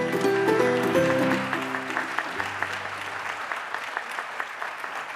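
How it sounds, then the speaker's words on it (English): Audience claps for award winners at a WSIU public broadcasting livestream event, moderate applause that starts over a brief musical sting and then continues as a steady, somewhat distant patter before thinning out. "How about a big round of applause for our winners?"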